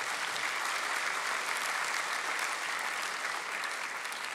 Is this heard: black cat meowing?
no